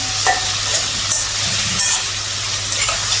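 Fish fries in a hot pan of mustard oil with a loud, continuous close-up sizzle and spitting crackles, plus faint stirring scrapes, with no voices.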